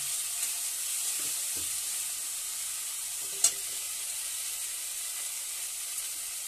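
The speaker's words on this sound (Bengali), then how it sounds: "লঙ্কার গুঁড়োটা দিয়ে এবার নেড়ে নিচ্ছি" Chili powder stirred into fish-head and pui (Malabar spinach) greens frying in a pan: a quiet, steady sizzle with a few faint scrapes and one sharp click of the spoon partway through.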